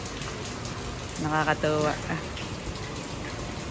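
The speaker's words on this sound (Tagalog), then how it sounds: "Kami po inabot na nga ng malakas na ulan." Heavy rain pours down steadily in General Nakar, a constant hiss of falling water throughout, with a voice speaking briefly over it near the middle.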